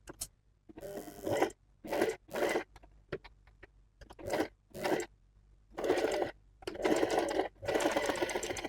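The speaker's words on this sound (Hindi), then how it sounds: "सिलाई लगाते जाएंगे।" Sewing machine stitching fabric for a co-ord set, running in repeated bursts of steady whirring with brief pauses between, close and clear, with no voices.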